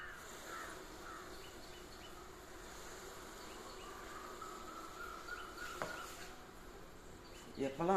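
Honeybees swarm around a wooden beehive box while it is cleaned and smoked, giving a steady, dense buzzing drone that runs the whole time, with a few brief knocks and a sharper sound near the end.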